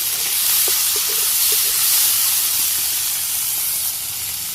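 Fish fries in a pan with onions, a loud steady sizzling hiss filling the whole stretch with small pops scattered through it.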